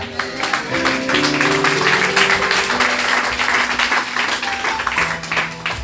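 A church congregation applauds to acclaim the Lord with sustained, dense clapping from many hands. Music or tonal sound plays underneath, and the clapping stays steady before easing slightly at the end.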